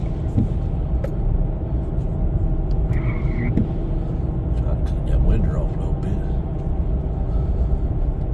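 Steady low road rumble of a vehicle driving along on a commute to work, continuous and fairly loud throughout, with someone talking over it.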